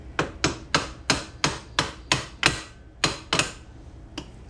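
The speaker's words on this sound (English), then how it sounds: "A little more hammering behind it, I guess." A hammer strikes metal around the sprocket of a 2001 Yamaha Warrior 350 ATV during a chain and sprocket install. About a dozen sharp, ringing blows come close and at a steady rhythm, with a short pause near the end.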